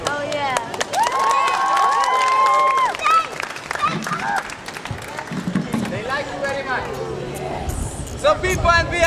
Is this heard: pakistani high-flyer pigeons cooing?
no